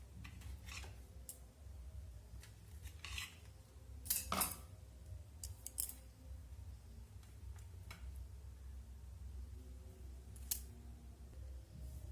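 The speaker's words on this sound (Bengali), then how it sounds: "এখন আমি প্রত্যেকটা ব্রেডকে এইভাবে কোনাকুনি কেটে নেব" A knife cuts slices of bread diagonally with soft, sparse crunching strokes and a few clicks against the board, close but quiet over a low steady hum.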